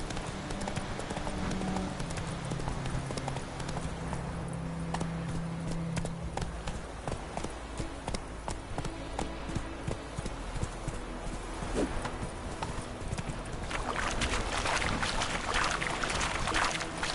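A horse gallops in The Witcher video game, its hooves beating in a fast, steady clip-clop over continuous game ambience, close and prominent throughout.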